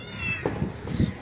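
A cat meows outdoors at the old Sewri Fort in Mumbai, thin high-pitched cries rising briefly over low rumbling background noise.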